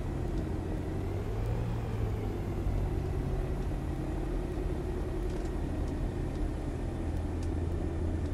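Diamond DA-62 twin-engine aircraft rolling out after landing and taxiing off the runway at Viracopos, a steady loud engine and rumble drone with no voices throughout.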